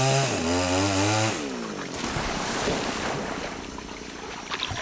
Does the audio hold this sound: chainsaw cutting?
yes